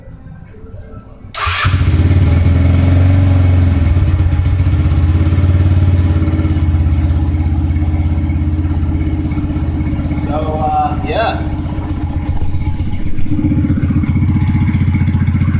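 A custom scooter engine fitted with a Flowmaster muffler starts and settles into a loud, throaty, steady idle close by, with a brief burst of talking partway through over the running engine.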